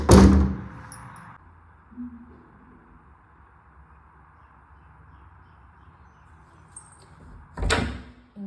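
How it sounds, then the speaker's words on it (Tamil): A Rajapalayam dog knocking on a door, with a heavy thud at the start and another burst of knocking near the end, separated by a long, near-silent stretch. "இவர் தான் கதவை தட்டுறாரு."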